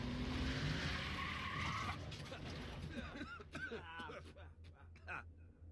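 A car in Tales from the Borderlands drives up and skids to a stop: a loud engine roar and tire squeal at first, fading into rattling mechanical clanks, with a voice speaking over it.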